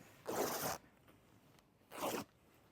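Two rough tearing bursts as a seamstress rips along cut barrel-leg denim jeans, each about half a second long with a short pause between, close and fairly loud with no one talking.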